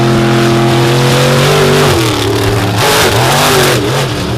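A race car accelerates hard on a qualifying run at an Indy raceday, its engine loud and close with a steady high roar that rises and shifts in pitch as it climbs through the revs.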